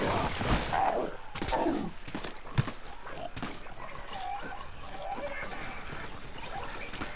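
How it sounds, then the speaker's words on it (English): Gunfire in the shooter Plants vs. Zombies: Garden Warfare: a cluster of sharp cracks early on, then lighter scattered shots over a busy game backdrop. "Some guy is shooting at me up here"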